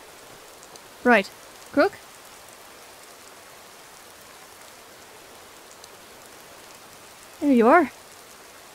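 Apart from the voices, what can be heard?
rain falling in Skyrim video game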